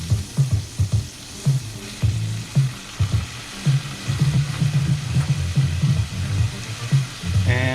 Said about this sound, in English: Alright, let's drop the noodles in.